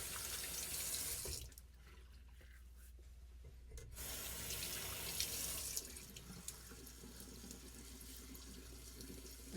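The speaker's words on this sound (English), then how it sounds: "Go ahead and do a quick rinse." A bathroom tap runs for a quick rinse after a razor shave, a steady close hiss of water that briefly drops off, then resumes with faint splashing and trickling.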